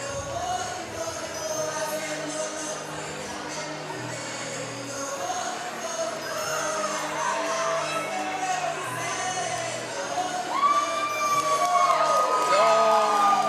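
A powerlifting crowd cheers, whoops and shouts during a 165 kilo deadlift attempt, the noise building and growing louder toward the end.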